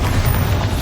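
A Bombarda blasting spell from Hogwarts Legacy goes off as one short, heavy, booming explosion with a deep rumbling low end.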